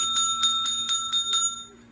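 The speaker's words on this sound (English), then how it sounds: "She had her own little bell to keep you quiet." A small hand bell rings rapidly in a steady run of about six bright, evenly spaced strikes, moderately close, against a faint low hum.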